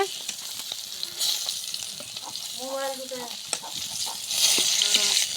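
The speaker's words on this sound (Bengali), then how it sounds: "এবার সুন্দর করে আমরা আগে মাছটা ভাজে নিচ্ছি দেখুন।" Fish frying in hot oil in a home kitchen, a steady crackling sizzle throughout with stirring and clinks of a utensil, plus a brief tonal clatter midway.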